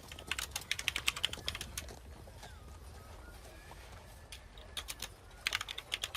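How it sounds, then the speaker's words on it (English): Bursts of rapid clicking on a computer keyboard come in two clusters with a quieter pause between, fairly faint against a low background hum. "Man, there's a lot of typing."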